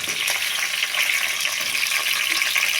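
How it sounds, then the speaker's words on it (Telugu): Capsicum pieces frying in oil for a capsicum curry, a dense, even hiss of sizzling close up with no voices. "ఆయిల్లో వేసి ఫ్రై చేసుకోవాలి ఫ్రెండ్స్"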